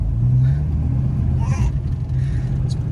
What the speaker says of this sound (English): a lot of the early Holden 6s are a good sounding engine